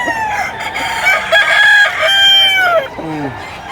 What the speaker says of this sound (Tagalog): ang dami niyong pwedeng mabili dito na manok